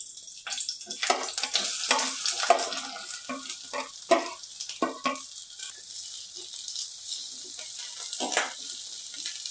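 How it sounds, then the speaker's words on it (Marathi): Onions fry in oil in a pan while making a Goan fish sukka, giving a bright hissing sizzle broken by several sharp stirring scrapes and clatters, then settling to a softer, steady fizz. "आता मी इथून कांदे भाजून घ्या।"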